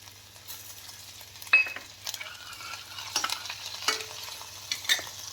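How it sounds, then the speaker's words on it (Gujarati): Garlic, asafoetida and ginger tempered in hot oil for a Gujarati potato and green bean curry: a low, steady sizzle with scattered sharp clinks and scrapes of a spoon stirring in the pan, close and without talk. "લસણ અને હિંગનો જ વઘાર કરવાનો છે"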